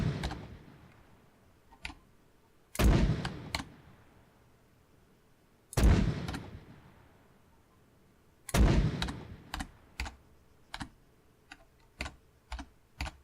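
Mk6 82mm mortar rounds fire in the video game Arma 3, with three loud booming launches and their fading echoes, followed by a run of sharp, clicky, mechanical taps.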